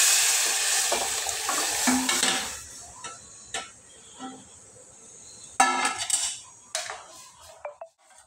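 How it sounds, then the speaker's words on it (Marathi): Cooked tomato and onion are mashed in a hot pan with a spoon, giving irregular scraping and knocking strokes over a soft sizzle, busier at the start and then more scattered and intermittent. "हे बघा टोमॅटो आणि कांदा होता ना ते असं मॅश करून जरा घ्यायचं"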